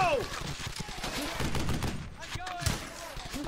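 Gunfire in the World War II shooter Brothers in Arms: Hell's Highway as a machine gun team lays down suppressing fire, a dense busy clatter of shots and impacts running throughout with in-game voices in the mix.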